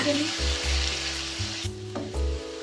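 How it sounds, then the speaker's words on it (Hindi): A steady oily sizzle of ginger garlic paste frying in oil in a pan for fish curry, with occasional scraping thumps of a spoon stirring it. "अब अदरक लहसुन पेस्ट डाल देंगे और 2 मिनट भूनूंगी"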